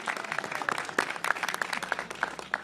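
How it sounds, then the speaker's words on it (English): A modest audience at a Washington, DC mayoral event opening the Office of Neighborhood Safety & Engagement gives thin, scattered applause, with individual claps popping out at fairly regular intervals at a moderate distance. "Come on, y'all can clap better than that."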